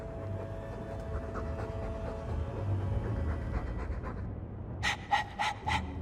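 Dog panting in the video game Dragon Age 2, a soft continuous breathy rhythm under game ambience, ending with a few sharp, louder bursts of quick breaths.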